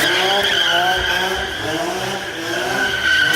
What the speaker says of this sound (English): cut to some clips of me doing burnouts